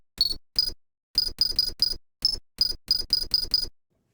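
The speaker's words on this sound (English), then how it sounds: "So this is the microwave beep." Short, bright electronic beeps from a microwave sample, pitched up and played on a keyboard, come in a quick irregular run of about a dozen tones with brief silent gaps between them.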